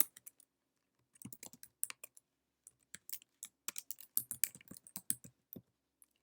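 Typing on a computer keyboard to fill in an account sign-up form: close, quiet, irregular bursts of key clicks separated by short pauses, with no speech.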